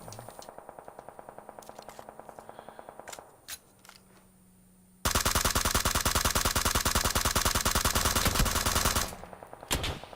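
Suppressed automatic gunfire from a video game, with a rapid rattling burst that starts partway through and runs steady and loud for several seconds. Quieter clicks and shots come before it, and there is no talking.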